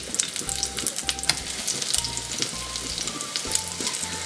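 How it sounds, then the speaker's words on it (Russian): Liver mince pancake batter sizzles and crackles steadily in a hot frying pan, a close, continuous fry with dense spitting pops and no voices. "Обжариваем с одной стороны примерно около 2 минут."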